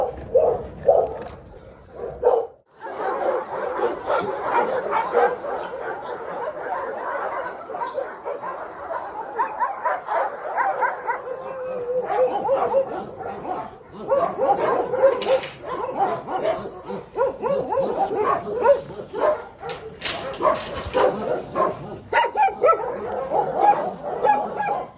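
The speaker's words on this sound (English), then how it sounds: "The dogs are just stuck in cages and cells for the rest of their lives." Shelter dogs shut in cages bark and yip steadily, a dense overlapping chorus of barks with occasional whimpers running the whole time, fairly loud and close.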